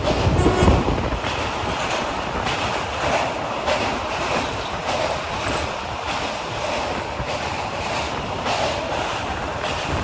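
Kaziranga Express passenger train crossing the Bali Bridge near Dakshineswar, its wheels rumbling on the rails in a steady, loud, continuous roar with a faint rhythmic clatter from the carriages.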